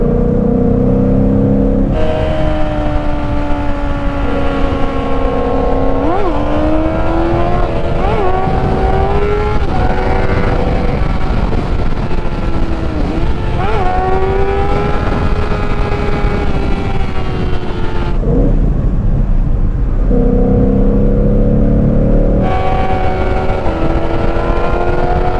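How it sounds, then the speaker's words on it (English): A Ford Mustang GT V8 downshifts and accelerates hard on a track, its loud engine note rising and falling in pitch through several gear changes with brief blips, close and continuous for the whole stretch. "Oh. God, the downshift of that thing sounds like a beast."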